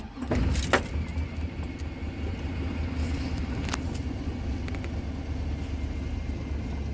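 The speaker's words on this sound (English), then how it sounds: "Okay, so this is a cold start." A truck engine idles after a cold start on a mild morning in Arizona, giving a steady low rumble that holds even and close throughout with a brief louder burst near the start.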